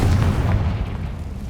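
A Confringo spell blast in Hogwarts Legacy lands as a short, loud, deep boom with a low rumbling body that holds steady through the brief moment.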